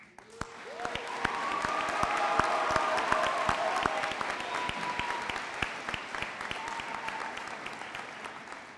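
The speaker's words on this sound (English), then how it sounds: "please stand up at this time so we can give you a round of applause" A crowd at a high school graduation applauds graduates enlisting in the military, a dense, sustained roar of clapping with scattered cheers and shouts that swells then slowly eases, with sharp nearby claps throughout.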